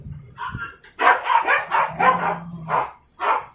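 A household dog barks in a short run of about six loud, close barks, with a low electrical hum beneath during a no-power Casio keyboard repair.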